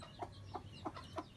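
Two mother hens guarding a newly hatched chick cluck softly, giving four short, evenly spaced clucks against a low background hum.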